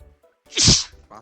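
A single sharp human sneeze bursts out indoors during a tabletop game session, loud and close, with brief quiet murmurs around it.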